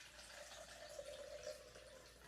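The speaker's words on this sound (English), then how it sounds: "I'm going to pour 3 cups of water" Water poured into a measuring cup for homemade lemonade, a soft, steady stream of trickling liquid at low volume with no voices.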